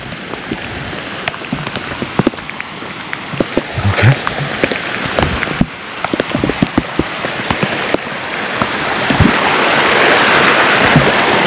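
Heavy rain pours down on Mount Sumbing, a dense steady hiss with sharp drops pattering and tapping on nearby surfaces, growing louder toward the end, with no voices.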